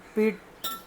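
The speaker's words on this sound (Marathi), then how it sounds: "मीठ आणि सगळं मिक्स करूया." A spoon clinks against a bowl while flour and salt are mixed, two brief close knocks with a ringing tone, and a short spoken sound in between.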